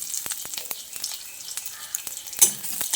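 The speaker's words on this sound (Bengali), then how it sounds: "তারপর ফোড়নটাকে বেশ কিছুক্ষণ ভেজে নিতে হবে।" Dried red chilies, whole cumin and crushed garlic cloves frying in hot oil in a pan, a bright crackling sizzle with sharp pops and occasional utensil clicks, one louder burst near the end.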